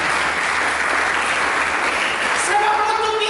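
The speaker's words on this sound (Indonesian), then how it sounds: "Mari berikan tepuk tangan bagi Yesus." Church congregation applauding during a sermon, a dense steady wash of clapping filling the space for several seconds, loud and close.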